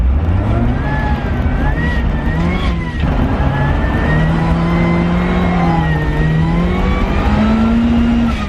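Supercharged offroad Mazda Miata accelerating hard on gravel, a loud, steady, close engine note climbing through the revs for the whole stretch, with a brief shift-like dip near three seconds.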